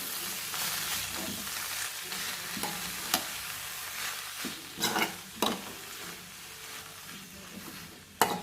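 Mixture stirred while frying in hot oil, a steady sizzle with scraping spoon strokes and a few sharp knocks against the pan, close and continuous, no voices.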